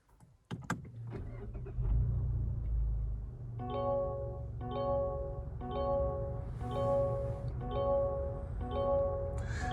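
A 2023 Mazda 3 with the 2.5-litre naturally aspirated four-cylinder cranks and fires with a brief low rumble, then settles into a quiet idle while an electronic warning chime repeats at a steady pace over it.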